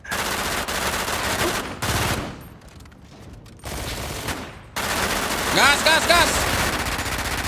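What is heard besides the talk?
gunfire in GTA 5 roleplay, a video game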